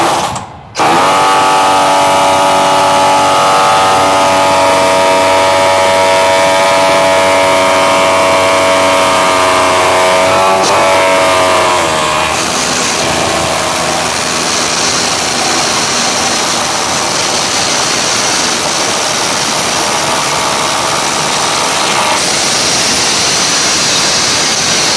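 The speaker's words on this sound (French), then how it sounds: "Donc on va essayer de percer le trou." A Hilti drill bores an anchor bolt hole for a railing, a loud, continuous whining drill run with a shift in pitch partway through, heard close and without talk.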